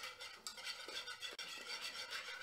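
A whisk or spoon works through a cream of egg yolks, hot milk and gelatin, giving soft, continuous scraping and swishing strokes at close range, fairly quiet.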